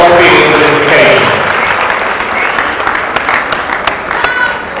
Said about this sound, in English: Let's give these scholars another round of applause.